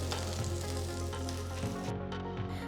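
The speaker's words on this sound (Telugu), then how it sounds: "ఒక ప్యాన్లో నేను గుడ్డుని పగలగొట్టి వేస్తున్నాను" An egg cracked into a hot pan fries for Thai fried rice, giving a loud, continuous crackling sizzle with small pops, heard up close with no talking.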